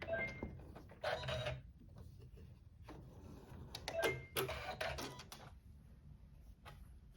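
An embroidery machine stitches a quilt block held in its hoop, giving a close, steady run of rapid mechanical clatter and whirring broken by short pauses and sharper ticking bursts.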